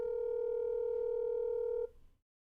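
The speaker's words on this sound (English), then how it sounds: "Okay, let's see if I can call Eggy without doxing him." A phone call's tone sounds as one steady, continuous electronic note that holds for almost two seconds, then cuts off abruptly into silence.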